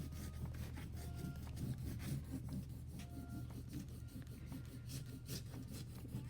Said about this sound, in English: I use the closed Sharpie, and I'm rubbing pretty hard on top